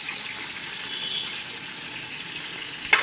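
Chili and onion hit a hot pan of dal while bhuna khichuri cooks: a loud, steady, hissing sizzle runs throughout, with one sharp click near the end.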